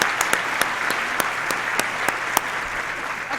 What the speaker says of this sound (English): Modern Millie another huge round of applause.